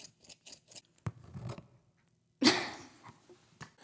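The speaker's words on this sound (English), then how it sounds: "So we got some scissors." Scissors snipping through the packaging of a new MacBook Pro during a quiet close-up unboxing, a few sharp separate cuts and crinkles followed by a louder rustling burst, with no talking.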